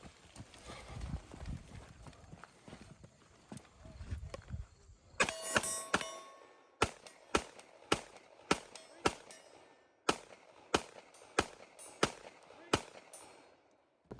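Gunfire at a CQB shooting match, where after a stretch of muffled background noise a rapid run of about a dozen sharp, close cracks rings out, evenly spaced with brief gaps.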